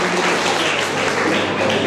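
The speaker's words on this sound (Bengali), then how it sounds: "আজিম ভাইয়ের জন্য একটা জোরে হাততালি।" An audience at a school sports competition ceremony applauds loudly and steadily in a dense wash of clapping that lasts throughout.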